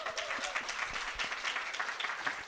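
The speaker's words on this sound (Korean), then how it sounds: "박수 쳐주세요." Applause from an audience at a business presentation, a fairly quiet, steady patter of many hands clapping without pause.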